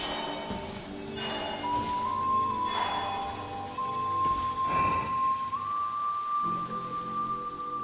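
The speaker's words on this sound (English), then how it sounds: "Taking shelter and listening to the rain cleanse the earth makes me feel safe." Steady rain pours in the open world of Genshin Impact, a dense, continuous hiss of drops on surfaces with a low rumble beneath and a sustained tonal drone running through it; no one speaks.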